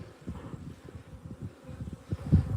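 Honeybees in a hive opened for a midwinter inspection on a cool day, giving a low, soft, steady buzz with small swells and one louder burst near the end.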